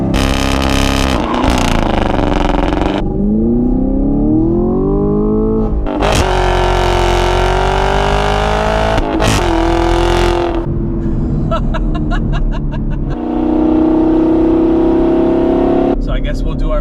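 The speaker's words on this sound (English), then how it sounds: "Put the car in first, hit the accelerator and let it rip." A Chevrolet Camaro LT1 V8 launches hard with traction control off, its engine roaring loud and close as revs climb steeply through first gear, then drop and climb again with each upshift.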